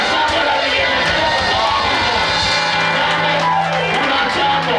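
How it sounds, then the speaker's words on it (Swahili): A church congregation ululates and cheers in praise, a loud, dense crowd roar of high trills and shouts that carries on without pause. "Piga Bwana shangwe la vigelegele."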